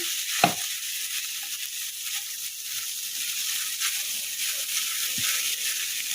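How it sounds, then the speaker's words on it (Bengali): Spices tempering in hot oil for jeera rice, a steady bright hiss of frying throughout with a couple of brief knocks, close and unbroken by speech. "রসুন কুচি আদা কুচি তারপরে হচ্ছে কারি পাতা কাঁচামরিচ এগুলা একটু তেলে ফোড়ন দিলাম"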